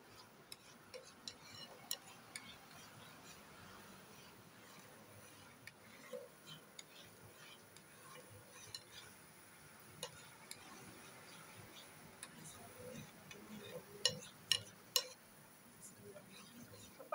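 Bechamel sauce being stirred in a pan: faint, close scraping and soft ticking of a utensil against the pan at an irregular pace, with a low bubbling background and a few louder clicks toward the end.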